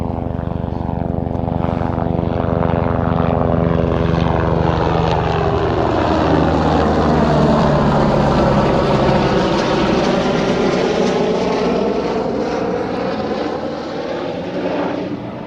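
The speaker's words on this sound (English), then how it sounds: "There's an helicopter coming over." Helicopter passing overhead above a lake in the Austrian Alps, a loud sustained rotor and engine drone whose pitch sweeps down as it goes by, no voices.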